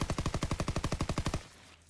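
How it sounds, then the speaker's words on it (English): An automatic weapon with an extended magazine fires in Call of Duty WW2: a rapid, evenly spaced stream of about twenty loud shots in one continuous burst that stops abruptly, leaving faint background. "if I just hold the trigger and I don't touch the right stick at all and I just fire"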